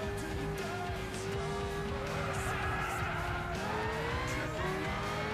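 A car's engine heard from the inside cabin in Gran Turismo 6, a sustained droning tone that shifts pitch slightly with throttle, steady and fairly quiet under a low rumble.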